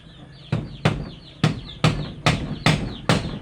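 Chickens kept with ducks in a backyard pen being built, with a series of sharp thumping hits about every half second, alone and fairly close, rather than plain clucking.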